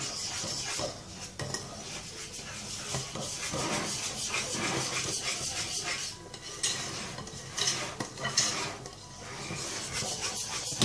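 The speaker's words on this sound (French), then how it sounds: "On va bien mélanger le tout." Dough stirred and mixed in a bowl, a continuous rubbing, scraping churn with irregular strokes and occasional clinks of the utensil against the bowl, fairly quiet and close.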